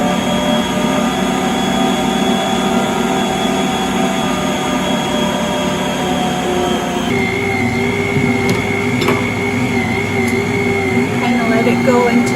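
A stand mixer runs steadily, kneading Spudnut potato donut dough in a bowl packed full of ingredients; a constant motor drone holds throughout, shifting pitch partway as the load changes, with faint talk underneath.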